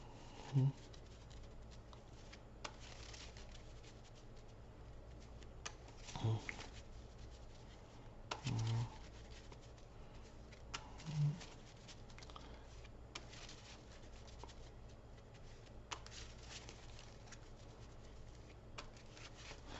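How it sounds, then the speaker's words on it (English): A deck of cards is shuffled during a card game demonstration, a soft, steady patter of riffling cards with a few sharper taps, under quiet room noise and occasional speech. "So I'm going to shuffle here and then do a brief demo."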